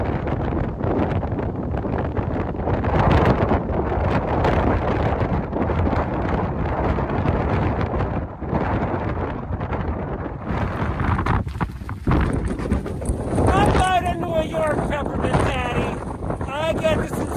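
Brisk wind buffets the microphone on a 4,000-foot summit of Bigelow's Avery Peak along the Appalachian Trail, a loud continuous rumbling roar with gusts, and birds chirping faintly near the end.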